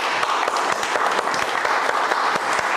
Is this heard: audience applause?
yes